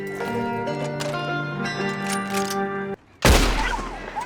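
Sustained musical tones break off, a brief pause, then a loud, sharp gunshot with a decaying boom and rumble, fired while hunting in Red Dead Redemption 2.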